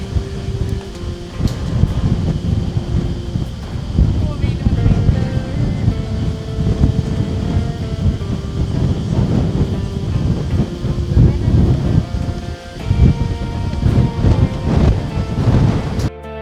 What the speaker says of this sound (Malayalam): ഓ ഒടുക്കത്തെ കാറ്റാണ്, ഒടുക്കത്തെ കാറ്റ്.